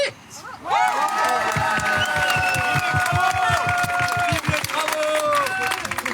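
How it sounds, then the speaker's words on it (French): A crowd at a protest rally against the A51 motorway and the 2030 Winter Olympics cheers and shouts while hands clap in a steady rhythm, loud and lively, with voices rising over the clapping. "On applaudit."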